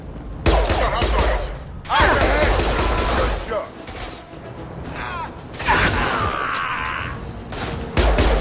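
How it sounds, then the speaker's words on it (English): Blue Suns mercenaries and Vorcha open fire in the Mass Effect 2 video game, with loud bursts of rapid gunfire and explosive impacts in repeated volleys mixed with game effects. "The Blue Suns and Vorcha shooting anything that moves."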